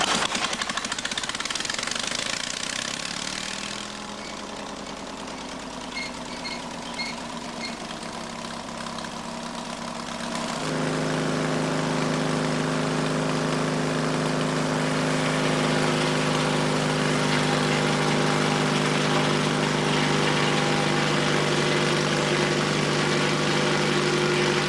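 A portable sawmill engine runs in the bush while milling timber, a loud continuous drone that dips and labours for a few seconds, then steadies into a higher, even hum under load for the rest of the time.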